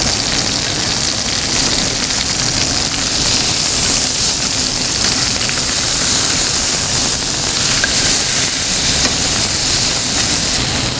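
Steaks sizzling in a 12-inch skillet, a steady, loud hiss and crackle of frying fat that runs unbroken throughout with no pauses.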